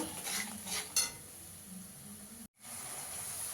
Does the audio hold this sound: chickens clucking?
no